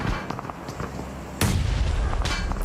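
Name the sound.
grenade explosion in a battle royale video game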